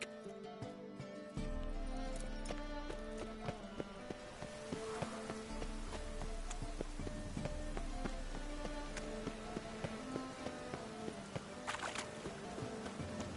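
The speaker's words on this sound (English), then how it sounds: "And it's raining again." Steady rain in The Witcher video game patters across a surface, with low rumbling and scattered sharp ticks over a constant wash of sound; no voices.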